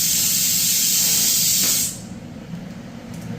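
A pressure cooker whistle vents steam in a home kitchen with a loud, steady, hissing jet that cuts off abruptly after about two seconds, leaving quiet room noise.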